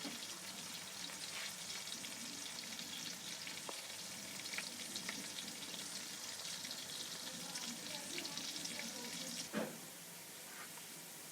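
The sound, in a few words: onions frying in a pan for aloo gosht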